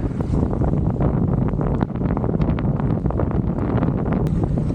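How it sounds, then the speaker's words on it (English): Strong wind gusts buffet a sailboat under sail, a loud, steady broadband roar with microphone wind rumble and water rush throughout, no voices. "And pretty good gust here."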